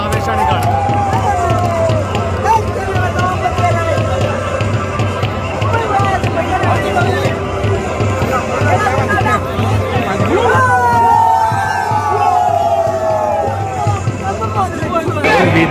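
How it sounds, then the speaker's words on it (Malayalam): A packed stadium crowd in Malappuram roars and cheers as the Kerala football team walks out for a 2022 Santosh Trophy match against Rajasthan, a dense, sustained wash of noise with a voice talking over it throughout. "അവിടെ ടീം ഇറങ്ങുന്നുണ്ട്, അതിന്റെ ആരവങ്ങൾ കേൾക്കുന്നുണ്ട്."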